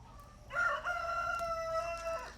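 A rooster lets out one loud, close cock-a-doodle-doo lasting under two seconds, from a farm where chickens and rabbits share one compost-making system of wood chips and sawdust.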